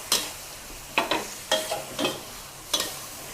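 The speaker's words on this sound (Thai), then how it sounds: "แล้วทีนี้เราก็ผัดให้โหระพาสุกนะ" Food sizzles in a hot pan over high heat while a utensil scrapes and tosses vegetables and holy basil in quick, irregular strokes, about half a dozen in a few seconds, while stir-frying tofu with minced pork.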